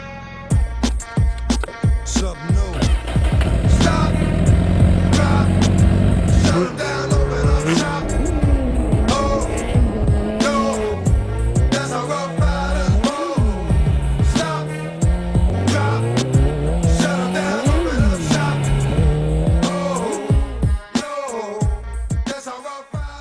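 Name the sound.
modified 200 hp motorcycle accelerating at full power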